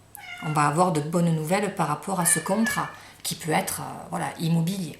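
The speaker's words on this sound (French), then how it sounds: "Alors excusez-moi, c'est mon chat." A pet cat meows indoors, its cries overlapping someone speaking French at close range.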